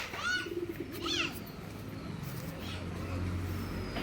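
Pigeons coo close by in short rising and falling calls near the start, with someone talking and faint road traffic rumbling in the background.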